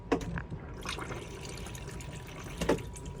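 Flush pump in an Adria Coral 572 caravan toilet runs water into the bowl, a steady close trickle and gurgle with a couple of sharper splashes near the start and end.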